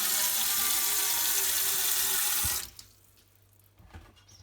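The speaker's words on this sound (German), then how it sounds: "Ab in die Spüle, etwas heißes Wasser rein." Hot water gushes from a tap into a kitchen sink to clean a Ninja Foodi grill pan, a loud steady rush that shuts off abruptly, leaving faint drips and clinks.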